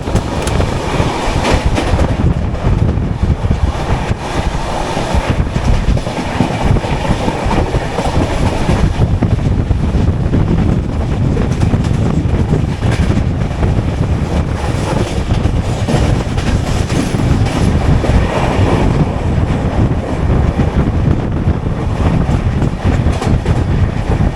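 The Deccan Queen passenger train runs on the Pune to Mumbai line near Diva Junction. A loud, constant rumble carries rhythmic wheel clatter and rushing wind noise throughout, with no speech.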